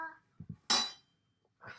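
Cut potatoes for French fries dropped into an air fryer basket: two soft low thumps, then a bright clattering rattle that quickly dies away, followed by a short sound near the end.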